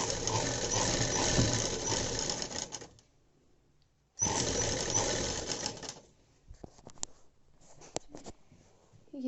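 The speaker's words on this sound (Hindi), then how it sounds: "यहाँ पे हम सिलाई लगा देंगे, एक बूट की सिलाई लगाएंगे" A sewing machine stitches the neckline of a designer dress in two fast, close bursts of rattling needle clatter separated by a short pause, followed by scattered clicks and handling noises as the fabric is adjusted.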